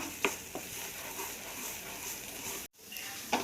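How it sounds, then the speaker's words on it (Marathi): Khoa (milk solids) roasts in a pan over a low gas flame while being stirred constantly, making a soft, quiet sizzle with a few light scraping knocks and a short gap near the end. "बारीक गॅसवरती व्यवस्थित भाजून घ्यायचा आहे आणि सारखं हलवत राहायचं आहे"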